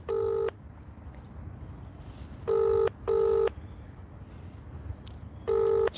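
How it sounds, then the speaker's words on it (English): A telephone ringing tone heard over a phone's loudspeaker comes in paired electronic bursts with pauses between each pair. It is moderately loud above a steady background hiss. "Still ringing."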